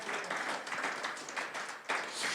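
Church congregation giving a round of applause, soft, steady clapping from many hands at a moderate distance, with no voices over it.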